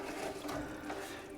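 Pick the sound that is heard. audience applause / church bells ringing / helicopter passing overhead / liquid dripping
liquid dripping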